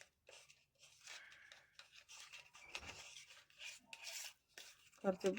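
A spoon mixes a honey face pack in a bowl, making faint, intermittent rubbing and scraping strokes with short pauses between them.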